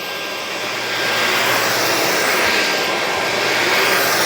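Two upright vacuums, a Bissell FurGuard 4039 and a Dyson V9, run over carpet, giving a steady, loud broadband whoosh and motor roar that swells slightly after the first second and holds without a break.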